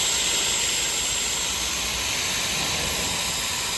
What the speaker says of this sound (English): I had to get a little bit of a larger grinding wheel, and it ate up that other grinding wheel